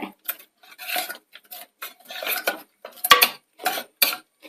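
Pressure cooker holding cooked lentils being opened in a kitchen, heard as a string of close metallic clinks, scrapes and clatters of the lid and pot in irregular bursts with short gaps.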